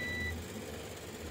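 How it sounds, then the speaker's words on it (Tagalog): A multimeter continuity buzzer sounds on a shorted filter capacitor on the power board of a TCL 58-inch smart TV: one short, clear beep at the very start, then only a low steady hum. "Yan, shorted din, nagba-buzzer din siya."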